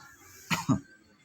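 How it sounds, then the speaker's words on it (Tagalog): Two quick, close coughs in a row, short and throaty, against a quiet background. "Medyo inuubo tayo ah."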